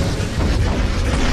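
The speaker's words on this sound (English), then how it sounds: "big explosion." A big explosion from an animated Skibidi Toilet episode: a loud, dense boom with a sustained roaring rumble filling the whole short moment, with no voices.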